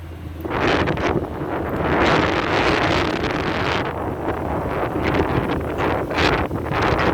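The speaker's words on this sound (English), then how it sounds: "Let's get out of the wind, huh?" Strong wind buffets the microphone outdoors beside a new 2021 GMC Yukon AT4 4WD, a loud continuous roar with rumbling gusts throughout and no talking.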